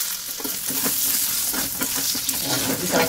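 Poha tempering stir-fried in a pan, a steady close sizzle and frying hiss with soft scraping stirs throughout, no talking.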